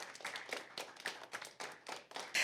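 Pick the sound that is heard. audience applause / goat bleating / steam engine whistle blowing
audience applause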